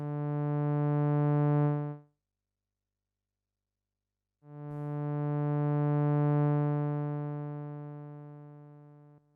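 A steady Yamaha Reface CS synthesizer tone holds and cuts off, then after a silence a second sustained note swells in and slowly fades away after key release, clean and alone.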